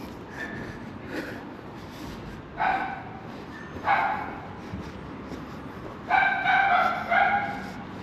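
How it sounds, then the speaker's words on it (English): Dogs bark on a street in Chester, several short yapping barks in scattered pairs and clusters over about eight seconds, moderately distant over faint outdoor background noise. "More dogs barking."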